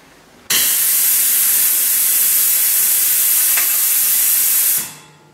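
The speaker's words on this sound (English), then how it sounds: "Pardon the air compressor, it's doing its auto blow down thing." Air compressor auto blow-down releasing air, a sudden loud steady hiss that runs for about four seconds and then tapers off, heard alone in a workshop.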